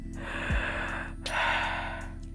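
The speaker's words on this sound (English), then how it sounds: "What just happened is that you took a chest breath." A single sharp, audible breath drawn high into the chest, a shallow gasp-like intake heard close and alone, with a second airy inhale following.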